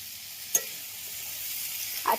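Lunch cooking in a pan gives a soft, steady sizzle of frying, with brief stirring clinks near the start and the end, faint and close with no talk.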